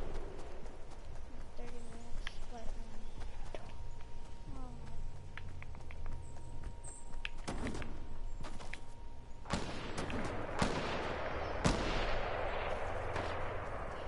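Gunfire in the Fortnite video game, Season 6: bursts of shots and sharp cracks over a steady game backdrop with hoofbeat-like clatter, the firing heaviest in the second half, while players talk.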